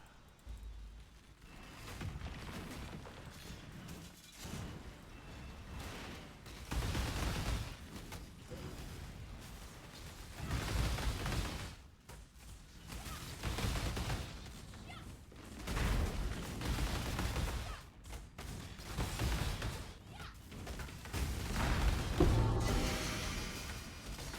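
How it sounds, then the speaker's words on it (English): Explosions and spell effects from Path of Exile combat with a shield-charging Elementalist burst in repeated waves, dense crackling blasts swelling and fading every few seconds over a long stretch of busy game sound. "You just shield charge through packs and everything explodes."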